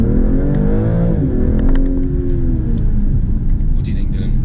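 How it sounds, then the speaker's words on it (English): A BMW G42 M240i fitted with an MST intake accelerates hard from first gear, a rising engine drone swelling and then settling into a steady rumble, loud and near with voices faintly underneath. "Quick pull from first gear."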